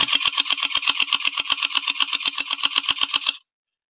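An MP5 fitted with a long fake suppressor fires a fast burst of about twenty-five evenly spaced shots over roughly three and a half seconds. Each report is sharp and close with a buzzy mechanical character, and the burst stops abruptly into silence.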